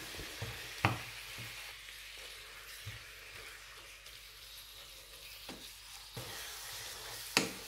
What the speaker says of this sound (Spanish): Seguimos moviendo para que la carne se vaya dorando, se vaya cocinando, mezclándolo con todos los demás ingredientes.